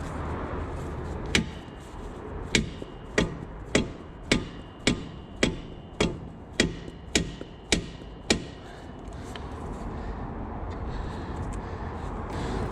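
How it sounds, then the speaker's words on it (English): A hammer strikes a nut stuck onto a socket, about a dozen sharp metallic blows in a steady, evenly spaced rhythm, fairly close and loud, then the blows stop and a quiet background remains. "since the nut's stuck onto the socket, I may as well hit them both"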